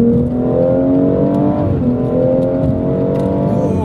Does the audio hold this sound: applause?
no